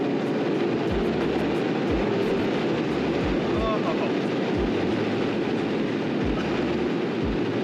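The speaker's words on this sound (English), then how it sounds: "Got a little rear wheel spinning action." Stage 4 tuned Ford Explorer ST accelerating hard with rear wheels spinning, heard from inside the cabin: a loud continuous engine roar and road rumble with rhythmic low thumps, while people talk excitedly over it.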